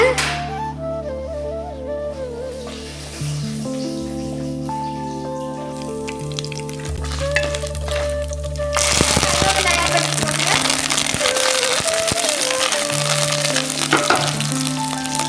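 Chana dal and urad dal crackle and sizzle in hot oil alongside dried red chillies while a tempering is made for a raw jackfruit poriyal. The frying hiss is steady and close, grows louder partway through, and a voice talks over it.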